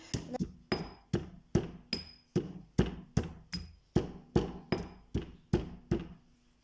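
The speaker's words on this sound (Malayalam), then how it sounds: "ഇടിയരലിലെടുത്ത് വെച്ച് ഇങ്ങനെ ഇടിച്ചു കഴിഞ്ഞാൽ അത് ചെറിയ ചെറിയ കഷ്ണങ്ങളായിട്ട് നിങ്ങൾക്കത് പൊട്ടിക്കിട്ടും." Frozen bitter gourd pieces pounded in a mortar, about a dozen sharp, evenly spaced thuds with a brittle, glassy crack. The strikes are close and clear with no talking.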